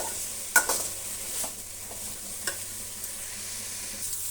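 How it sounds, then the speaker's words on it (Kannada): Bitter gourd masala stirred in a pan, a spoon knocking and scraping a few times over a soft steady sizzle, close and moderately quiet, with no voices. "ಈಗ ನಾವು ಹಾಗಲಕಾಯಿನ ಮತ್ತೆ ಕಲಿಸ್ತಾ ಬರೋಣ"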